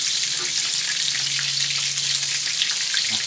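Shrimp frying in oil over high heat, a dense, continuous loud sizzle and crackle right up close, steady throughout with no talk.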